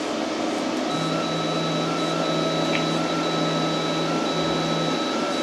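A CNC plasma cutter's torch homing to its reference position gives a steady mechanical whine with a faint motor tone, continuous and fairly loud throughout with no talk.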